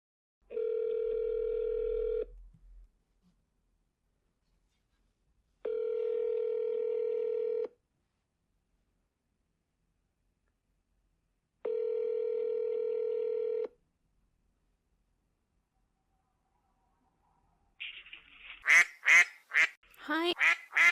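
A telephone call opens with three evenly spaced steady tones, each about two seconds long with gaps of silence between them. A voice comes in at the end.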